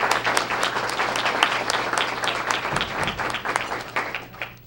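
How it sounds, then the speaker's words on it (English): A room of people claps in a sustained round of applause for the Sizzler servers at a school district Student of the Month event, dense and steady throughout with a low hum underneath. "and so I always like to give them a great round of applause as well."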